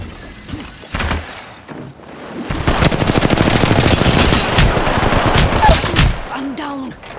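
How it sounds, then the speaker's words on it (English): Sustained automatic gunfire in an Apex Legends match, a dense rapid burst of shots running several seconds after a few scattered opening shots, loud and close, with brief game voice lines around it. "The enemies are shooting at me."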